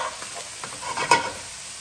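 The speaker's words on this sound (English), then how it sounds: "you see the rice is starting to get a little color, that frying rice" Rice sizzles steadily in a hot pan while a utensil scrapes and stirs it, with a few louder scraping strokes.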